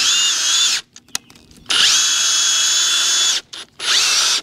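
Power drill with a poor chuck driving into wood while making lumber stackers, loud and close, whirring in long bursts broken by short stops and brief stutters.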